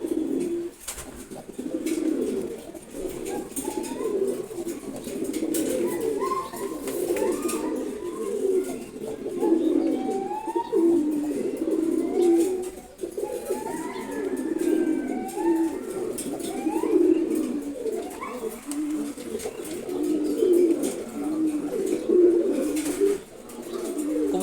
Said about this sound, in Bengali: খুবই ফ্রেন্ডলি নর কবুতরটা চিলা,